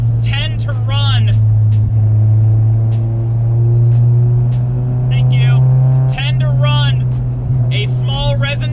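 A Honda Civic Si (FA5) exhaust with a Skunk2 Alpha header and 3-inch exhaust drones with a deep, steady tone that rises slightly in pitch as it revs, with someone talking over it.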